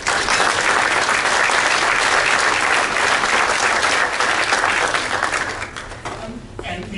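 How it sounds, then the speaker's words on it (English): An audience gives students a loud, sustained round of applause that holds steady for several seconds, then thins out and fades toward the end. "let's give them a round of applause"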